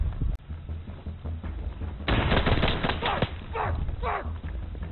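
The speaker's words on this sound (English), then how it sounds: "Oh, we're getting shot at." Gunfire in the video game Insurgency, a burst of loud, sharp shots and rapid volleys breaking out midway after quieter background game noise.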